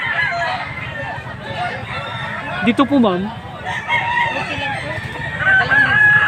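Fighting roosters crow loudly nearby at a gamecock market, one long crow rising mid-clip and another toward the end, amid clucking chickens and people talking in the background.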